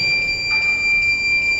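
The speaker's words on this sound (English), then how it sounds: "the fire sensor has already detected the flames and the buzzer has started beeping" A fire sensor buzzer on a science exhibition project, set off by burning paper in a china dish, sounds a steady high-pitched electronic tone that holds without a break.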